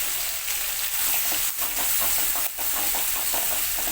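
Shallots, green chillies and garlic frying in oil, a loud continuous sizzle with crackling bursts and occasional stirring close by.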